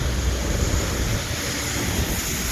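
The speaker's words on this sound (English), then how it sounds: "I just don't like it mixed with other elements, like sideways wind blowing it straight in my face." Strong sideways wind and rain buffet a handheld camera on a rainy day in Japan, producing a dense, steady roar of wind noise and hiss that stays loud and close throughout.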